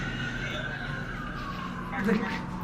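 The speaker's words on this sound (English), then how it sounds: "The sirens today are insane." A distant siren wails with a slowly falling tone over steady background noise, briefly swelling near the end.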